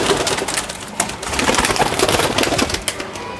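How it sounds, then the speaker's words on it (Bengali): A young high-flying pigeon of an old bloodline coos close by in soft, repeated throaty calls, with light rustling and tapping in the background. "এ হচ্ছে পায়রাটা"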